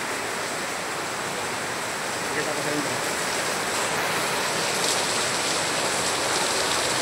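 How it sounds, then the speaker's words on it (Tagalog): Heavy rain pours down in a steady, dense hiss that never lets up, and a voice speaks briefly over it. "grabe ng ulan guys. Grabe ng ulan, lakas ng ulan."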